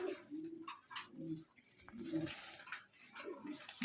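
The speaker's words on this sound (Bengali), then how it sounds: "এত সুন্দর হোয়াইট লক্ষা কবুতর নিতে পারবেন" Low coos of a white fancy pigeon repeat in soft, throaty bursts across a steady background hiss, with no other sounds standing out.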